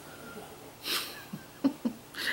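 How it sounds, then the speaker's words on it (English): A dog lying close by snores softly, a few faint, short breathy snorts and wheezes spaced apart in an otherwise quiet room. "That snoring you hear is my dog."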